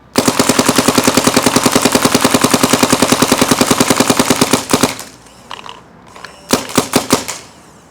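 Paintball marker firing frozen paintballs, a fast loud string of sharp, evenly spaced shots for about five seconds, followed by a few scattered pops and a short final burst, close by.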